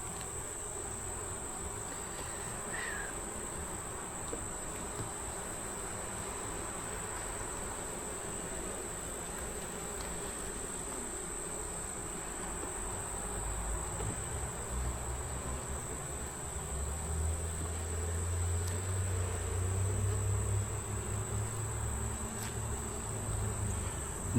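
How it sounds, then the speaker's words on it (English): Honeybees swarm around an open beehive, a dense continuous buzz of many wings near the listener, swelling louder toward the end with a low drone underneath. "But there sure is plenty of bees."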